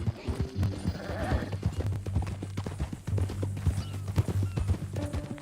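A horse's hooves clip-clop at a steady walking rhythm in the video game Red Dead Redemption 2, quiet and close, with soft background tones beneath the hoofbeats.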